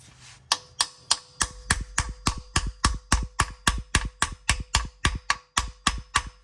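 A hammer taps a socket down onto a stripped oil pan bolt head, about twenty sharp metallic knocks in a steady, even rhythm, close and clear with no talking.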